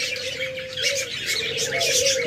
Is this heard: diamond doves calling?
yes